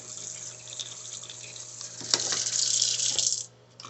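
Cold tap water running into a sink to rinse smoked oysters, a soft trickle that swells into a louder hissing splash for a second or two before stopping.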